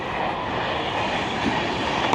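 A loud, steady rumbling roar of a passing train fills the whole stretch, broad and constant with no gaps.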